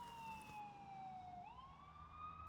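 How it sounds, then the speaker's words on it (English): Emergency sirens wailing during a stage performance of Matilda in Boston, a steady tone that slowly falls and then rises again, loud and continuous on its own with no talk over it. "I can't think with all these sirens."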